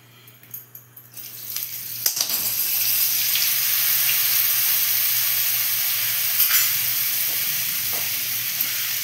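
Ground spice paste hits hot white oil in a wok and a loud, steady sizzle builds after a couple of clanks, then hisses on continuously with occasional crackles.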